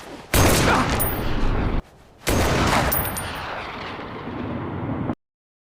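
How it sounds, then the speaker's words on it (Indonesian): A burst of loud, continuous gunfire rips out in a film scene. It comes as two long, dense volleys split by a brief near-silent gap, then cuts off abruptly into silence. "George langsung melepaskan tembakan untuk mengakhiri Shiv"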